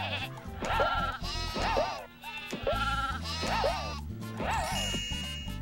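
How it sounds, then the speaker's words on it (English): Sheep in the video game Croc bleat repeatedly, several loud wavering calls close together, over a steady low game soundtrack with no talk. "Those poor sheep. What did they do?"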